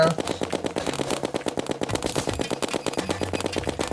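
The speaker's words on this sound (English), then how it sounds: "Get snowball cannon!" Rapid automatic fire from a snowball cannon in Terraria master mode, a dense steady stream of punchy shots repeating several times a second for the whole stretch, loud and continuous, with game sound effects layered around it.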